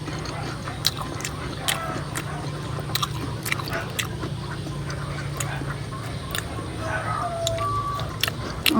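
Crisp bites and crunching chews into fried shrimp lumpia dipped in Mang Tomas sauce, several sharp close-up crackles in a row over a steady low background hum.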